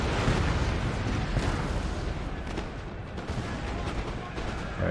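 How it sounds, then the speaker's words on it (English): Cannon fire from massed artillery firing canister shot during a Napoleonic battle in Napoleon: Total War, a continuous dense roar of booms and rumbling blasts with no clear gaps. "We've got all of the canister firing away."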